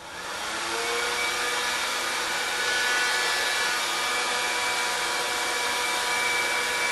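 A heat gun shrinking heat-shrink tubing over a soldered wire joint, heard as a steady, close, broadband blowing roar that holds evenly for the whole stretch.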